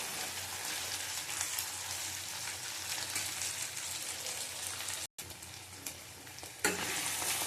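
Fish oil frying in a pan for a bitter gourd and potato dish, a constant soft crackle and sizzle like light rain with no talk.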